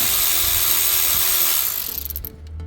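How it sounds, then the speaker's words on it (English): A ratchet works a T30 Torx bolt loose from a camshaft sensor on a Mercedes M276 V6 engine, with a fast continuous close-up whirring clatter that slows into a few separate clicks before stopping. "that's a T30 Torx to get the bolt off"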